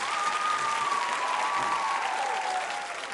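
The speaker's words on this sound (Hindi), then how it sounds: "तालियां जोरों से बजाइए सभी के लिए" A quiz show audience applauds the contestants at a women's training institute, steady clapping from a crowd that fades slightly toward the end, with a faint sustained tone running underneath.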